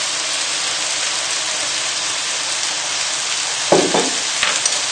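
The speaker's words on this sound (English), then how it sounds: "And then just give it all a nice stir together." Chilli chicken stir fry with rice vinegar sizzles hard in a hot pan. The steady hiss is broken near the end by a few clattering scrapes and knocks from the stirring.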